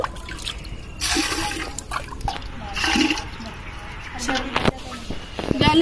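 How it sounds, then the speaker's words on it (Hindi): Water pours into a cooking pot while chana dal mangochi is being made, splashing and trickling in short bursts through the clip, close and fairly clear, with a voice faintly present in the background. "इसमें पानी भर लूँ डेगची में पानी।"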